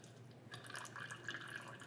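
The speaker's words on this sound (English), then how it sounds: "I'm going to pour the juices out of the pan here." Juices from a roasted chicken are poured out of a pan, a faint continuous trickling and dripping of liquid lasting under two seconds.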